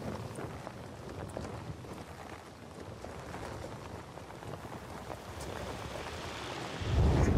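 Rain falls in the video game Dying Light 2, a faint, steady patter and hiss that swells slightly louder toward the end.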